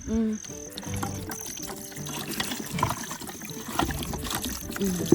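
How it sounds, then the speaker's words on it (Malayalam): Water splashes and trickles steadily as it is poured, close by, at a forest campsite, with kitchen clatter and a few voices talking in the background. "ഈ വെള്ളം ഒഴിക്കട്ടാ?"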